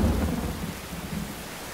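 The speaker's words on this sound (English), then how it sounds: "A little rain never hurt anyone." Heavy rain pours during a thunderstorm, with a deep rumble of thunder under dense, hissing rainfall, loud and close for a brief moment.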